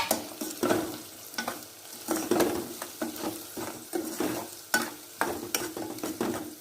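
Fried onion seasoned with salt and chili is stirred in a pan for an egg and potato bhujia, giving close, repeated scraping strokes over a steady sizzle.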